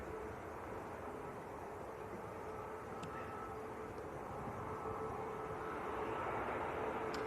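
A Ryanair airliner at Manchester Airport gives a steady, moderate jet rumble that grows slightly louder toward the end, heard at a distance with faint clicks and no speech.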